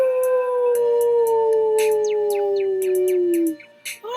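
A person imitates a wolf with a long, loud, sustained howl that slowly falls in pitch, followed by short yips and breathy squeals at the end.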